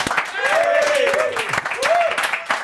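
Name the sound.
audience round of applause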